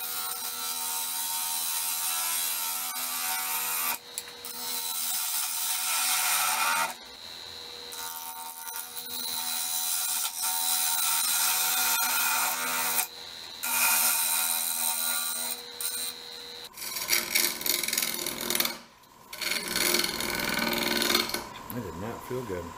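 A bowl gouge cuts a wooden bowl on a spinning lathe, making a loud, continuous rasping scrape in long passes broken by brief pauses, with a person speaking at times.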